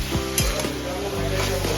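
Marinated chicken masala for honey chicken being stirred in a pan over low to medium flame: a steady loud sizzle with a few quick scraping strokes of the spoon, close up.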